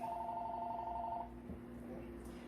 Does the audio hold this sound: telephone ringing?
yes